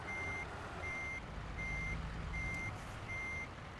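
Steady electronic reversing beeps from a truck in American Truck Simulator, a regular pulse repeating about twice per second over a loud, constant diesel engine drone, with no voices.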